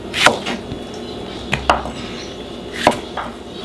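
A knife slicing an onion on a board, a few distinct sharp cuts spaced about a second apart over low steady background noise.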